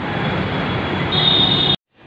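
A metro train runs on an overhead line above a road in Noida, a loud steady rumble with a rising squeal before it cuts off abruptly.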